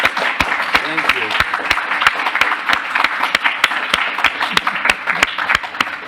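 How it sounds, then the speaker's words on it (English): Audience clapping for panelists at a Black History Month farmers panel, a steady round of many hands with sharp individual claps standing out, mixed with a few voices under it. "So you all give them a round of applause."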